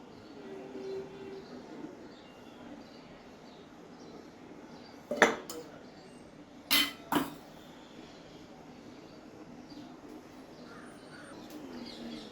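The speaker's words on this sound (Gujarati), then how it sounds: "હવે આ બધી સામગ્રીને આપણે મિક્સ કરીશું।" Jowar and wheat flour, salt and oil being mixed in a bowl for Gujarati goli muthiya dough: three sharp, close utensil clinks in the middle, one then a quick pair, over a low steady room hiss.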